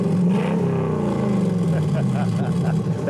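A classic Ford Falcon's engine revs up and eases back close by, with a voice talking over the rumble.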